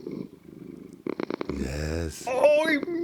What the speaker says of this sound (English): Now the cat is happy and it purrs